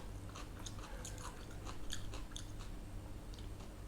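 Crunchy food, a spicy Thai instant noodle salad with pork sausage and fresh shrimp, is bitten and chewed close to the mic, giving a run of crisp crackling crunches over a low hum.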